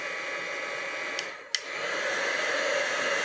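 Heat gun blowing a steady, close airy roar against the side of a candle being softened for a stamped image, with two brief clicks partway through and no talking.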